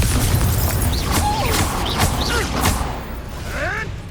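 Confringo blasting spells in Hogwarts Legacy combat, heard as booming bursts and whooshing magical effects that repeat over a dense, loud background, with brief voice-like sounds near the end.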